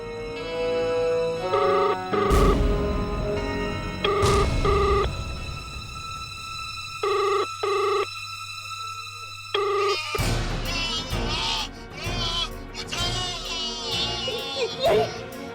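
A telephone bell rings in repeated short bursts in an Indian horror TV drama scene, clear and fairly loud over tense background music, with no one speaking.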